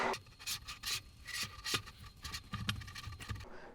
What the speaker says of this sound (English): I'm going to use my rubber spatula now and just mix that all up.